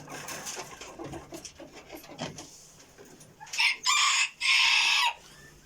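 A small broody hen of about 400 grams sitting on her nest gives soft clucks, then several loud, harsh squawking calls close to the microphone, with quiet barnyard background between them.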